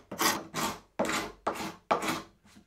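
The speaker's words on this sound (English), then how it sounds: "I'm just going to quickly scrape that off in my vise." Dried glue squeeze-out being scraped off a wooden piece held in a vise: five firm, raspy strokes at an even pace, close and loud, each ending abruptly before the next.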